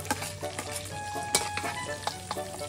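Garlic sizzles in a hot pan while being cooked for pancit, with scraping stir strokes and clinks cutting through the steady frying hiss at close range.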